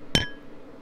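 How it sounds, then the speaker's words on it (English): A single sharp tap on glass, a bright brief clink with a short ringing decay, faint and alone. "gotta do some glass tapping here"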